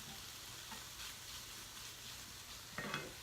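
Onion frying in a pan for a zucchini sausage frittata, a faint, steady sizzle throughout with a brief louder clatter near the end.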